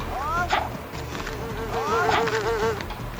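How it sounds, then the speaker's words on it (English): Buzzing bees in a shovelware PC video game from Data Design Interactive drone in loud, wavering swells that rise and fall in pitch, with game noise underneath. "I love how abruptly the sound stops when you kill the bees."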